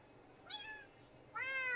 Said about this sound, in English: Baby cat! Aww! That is adorable.